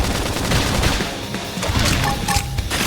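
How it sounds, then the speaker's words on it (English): A flame grenade attack in Xenoblade Chronicles X: Definitive Edition on Nintendo Switch. Loud, close explosive bursts rattle out in a dense, continuous barrage. "Now blast them at it. Flame grenade."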